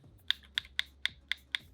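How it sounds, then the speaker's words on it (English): A thumbstick on a Nintendo Switch 2 Pro Controller is flicked repeatedly, giving six crisp, dampened clicks at an even rhythm, close and distinct against a quiet background. "Like this is the sound of this stick."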